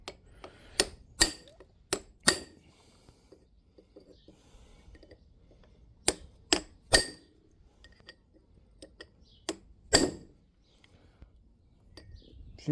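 A broken tool, actually a chisel, stands in for a hammer during repair work, striking in short bursts of sharp metallic knocks and clacks, several quick blows at a time with quiet pauses between groups.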